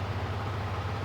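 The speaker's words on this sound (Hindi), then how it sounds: "सिंगल अटेम्प्ट बाइक स्टार्ट हो गई।" A Yamaha 155cc motorcycle engine idles steadily after starting, a low continuous rumble with even pulsing, close and alone without talk.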